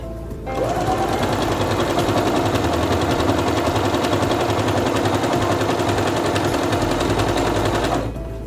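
A Singer Quantum Stylist 9960 sewing machine runs in one continuous burst of about seven and a half seconds, a loud, close, rapid mechanical whirring hum that starts and stops abruptly.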